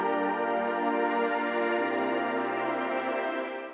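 Sustained synth pad from the Spire synthesizer, filtered up and swelling in a melodic house breakdown, holding a steady rich harmonic chord for several seconds before slowly fading at the end.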